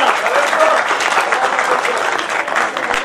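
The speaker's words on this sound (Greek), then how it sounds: "Ξανά ένα θερμό χειροκρότημα για τον Λορέντζο και την γυναίκα του." An audience at a live music event in London applauds Lorenzo and his wife, loud sustained clapping from a crowd filling the room, with faint voices mixed in.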